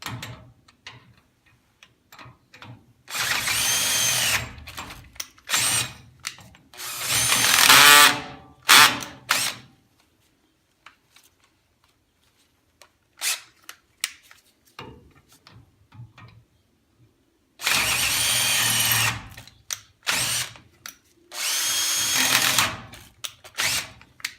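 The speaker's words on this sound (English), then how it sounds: "I'm going to spin this around to get the 1/2-inch drill bit into the hole." A power drill with a 1/2-inch bit reams out a bolt hole, whirring in repeated bursts, some long and some short, with brief pauses and light clanks between runs, close up.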